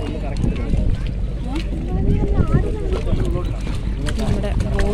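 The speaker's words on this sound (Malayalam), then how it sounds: "നമ്മുടെ ബോട്ട് വന്ന് ഗൈസ്." A passenger boat comes in across a Kerala backwater, its steady engine and water rush filling the scene under wind buffeting and nearby voices talking.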